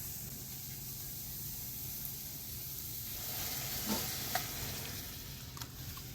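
A spinach mixture hits a hot pan and sizzles in a soft, steady hiss, with a few faint clinks of a utensil toward the end.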